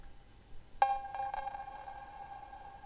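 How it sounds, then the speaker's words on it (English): A single synthesized cowbell hit rings out, then repeats in quick echoing delay taps that smear into a long, fading reverb tail, heard alone and fairly quiet. "you can really hear it in this cowbell"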